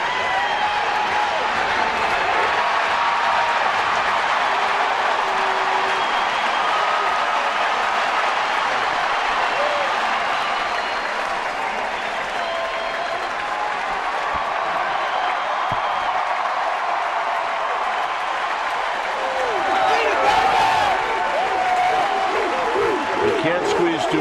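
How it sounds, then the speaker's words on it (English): Baseball stadium crowd cheering for Lincecum during a Giants–Padres game, a long sustained roar mixed with clapping and whistles, swelling slightly near the end, with commentators talking over it. "you're going to hear this crowd go crazy"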